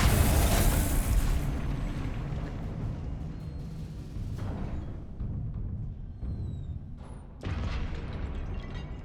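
An explosive curse blast in a Hogwarts Legacy video game lands as a loud booming burst that rumbles and fades, followed by a second sharper impact near the end.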